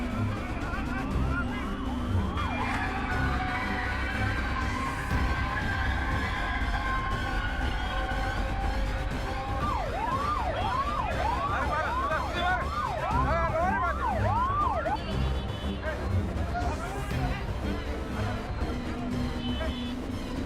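An ambulance siren wails and yelps over steady traffic noise, with a sustained rising-falling tone giving way to rapid warbling cycles midway, fairly prominent above the road rumble.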